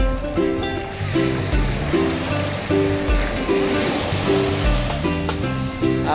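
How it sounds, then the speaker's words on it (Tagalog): Steady wash of shallow sea waves at Morong Beach with a rushing, hissing texture, partly masked by louder rhythmic music playing throughout. "sarap pagmasdan ang lagas-las ng alon, sarap pakinggan sa tenga"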